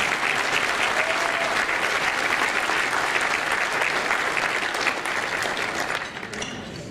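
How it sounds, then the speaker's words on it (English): Loud, dense applause from the crowd at an annual manufacturing association meeting, honouring skilled trades people, holding steady before tapering off near the end. "Let's give the skilled trades people a round of applause."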